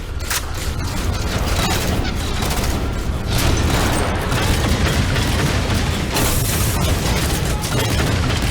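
Loud, dense weapon fire and booming blasts from a railgun battle in the video game Halo 4, with repeated heavy shots and explosions continuing throughout amid chaotic combat noise.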